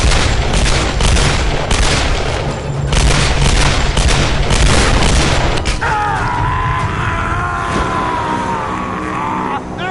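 Rapid gunfire from two pistols in the video game Tomb Raider Definitive Edition, booming repeated shots over game noise for the first half, then a whining, engine-like tone takes over, with a voice talking now and then.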